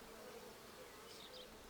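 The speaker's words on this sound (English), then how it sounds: "These are beautiful bees." Small honeybees buzz in a hive during an inspection of a newly caught swarm in a five-frame bait hive, a faint, steady, dense hum holding alone throughout.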